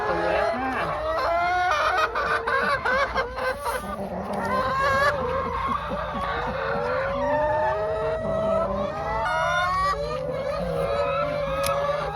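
Chickens on an egg farm flock of about forty hens cluck and squawk continuously, with overlapping calls and a crow-like rising call, close and lively throughout.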